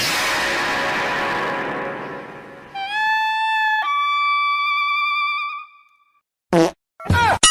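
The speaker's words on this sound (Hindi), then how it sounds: "दिन भर सुतले सुतले पादत रहला भस भस" A comic fart sound effect in a Bhojpuri comedy skit: a long noisy blast gives way to a squeaky, tonal, siren-like stretch, then silence and a few short sputtering bursts.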